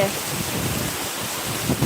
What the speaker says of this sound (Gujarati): ને એટલો જોશથી વરસાદ આવે છે